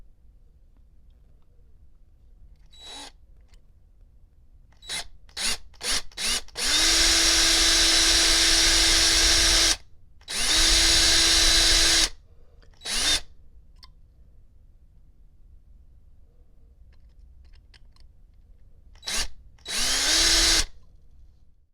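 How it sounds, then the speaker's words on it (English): A power drill bores through the flint tube of a Ronson automatic lighter in several bursts, its motor whining up to a steady pitch for a few seconds at a time, with short blips and silent pauses between runs. "now you've put your drill through the other side of the flint tube"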